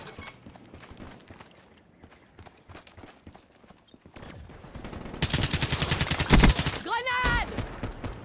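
A turret firing in Call of Duty: Black Ops III, a fast burst of loud, evenly spaced rounds in the second half, following quieter game action and speech.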